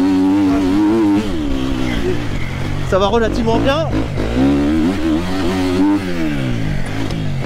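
A Triumph TF 250-X off-road motorcycle engine revs repeatedly, rising and falling in sweeping pitch climbs, loud and close, with someone speaking over it at times.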